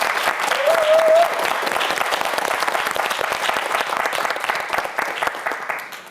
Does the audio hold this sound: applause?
yes